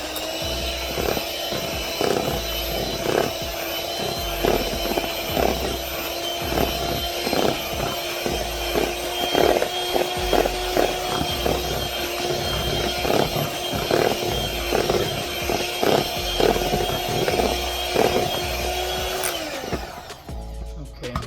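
An electric mixer runs through a sweet potato cornbread batter in a home kitchen, a loud steady motor whine with rhythmic knocking of beaters against the bowl, cutting off near the end.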